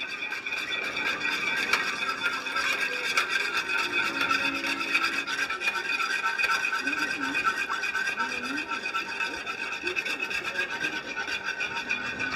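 Cornstarch is whisked into hot Marsala gravy, a steady scraping, rubbing rasp of the whisk against the pan running continuously at close range with no pauses.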